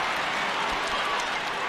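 Waterford supporters cheer and applaud at a GAA hurling match, a dense, steady roar of crowd noise filling the stadium throughout, with no distinct voices standing out.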